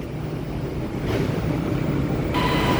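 An MRT Blue Line electric train at Bang Pho station gives a broad, steady rumble that swells louder partway through, and a thin tone joins near the end.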